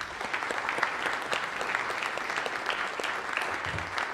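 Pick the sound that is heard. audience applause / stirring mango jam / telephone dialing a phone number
audience applause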